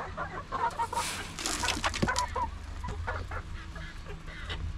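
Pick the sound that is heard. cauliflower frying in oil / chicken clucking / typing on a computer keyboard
chicken clucking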